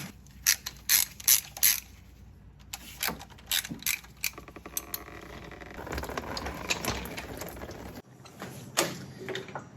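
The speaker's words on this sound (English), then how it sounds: "Crack these two bolts loose again" A ratchet wrench cracks bolts loose on the cooling system of a Volkswagen Mk1, Mk2 or Mk3. It gives close, sharp bursts of mechanical clicking that come in several separate spurts, with no talking.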